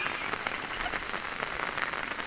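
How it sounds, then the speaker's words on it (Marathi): Steady rain falling outdoors in Latur district, a continuous dense hiss of drops on surfaces with scattered louder patters, moderately close and alone with no voices. "तर बघा का इकडं रात्रीपासून पाऊस चालू आहे."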